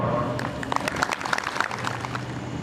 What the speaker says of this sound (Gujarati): પ્રેમથી બધાય એકવાર જોરદાર તાળી પાડો